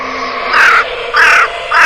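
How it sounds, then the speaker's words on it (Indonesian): Three harsh crow caws, evenly spaced about half a second apart, loud and fairly close against a steady background hiss. "burung gagak"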